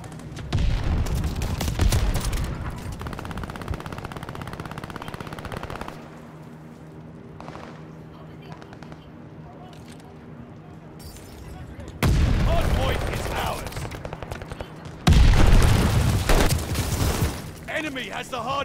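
Gunfire in Call of Duty: Vanguard Hardpoint mode comes in loud bursts of rapid machine-gun fire and booms, separated by quieter gaps, with voices talking over the action.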